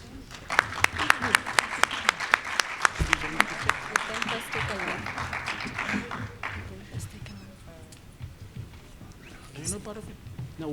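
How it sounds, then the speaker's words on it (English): Applause at a closing conference session, scattered sharp claps rising into a burst of clapping early, then fading as people chatter and talk over the room. "a grand round of applause"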